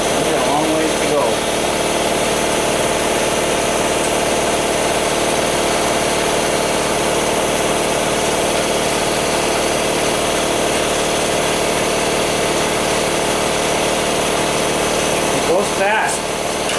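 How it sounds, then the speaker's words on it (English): An air compressor runs in the background of a home workshop in a big city, giving a steady, continuous mechanical drone that holds evenly for the whole stretch with no pauses. "Sorry about that compressor."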